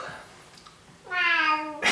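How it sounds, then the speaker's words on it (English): A house cat gives one clear, fairly loud meow with a harmonic, slightly rising tone in a quiet indoor room, preceded by faint background murmur. "whenever I vlog, she comes and meows"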